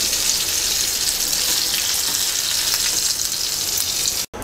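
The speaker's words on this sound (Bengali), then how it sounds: "মাছ ভাজা হয়ে গেছে। এবার তুলে নিচ্ছি।" Koi fish frying in hot oil for a Bangladeshi koi fish dish, giving a loud, steady, dense sizzle that runs unbroken, with no talk, until a brief dropout near the end.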